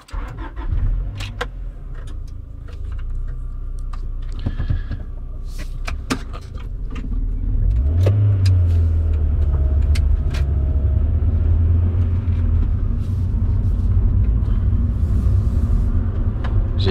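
A Honda Prelude VTi cranks and starts from cold, its engine catching about halfway through and then settling into a loud, steady idle close by, with a few clicks and door-like knocks before it starts.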